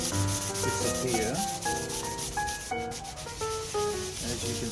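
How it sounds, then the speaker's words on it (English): Sandpaper rubs over the wood of a box in steady, close strokes, a continuous scratchy rasp with tonal music playing underneath. "So we're just going to sand that off"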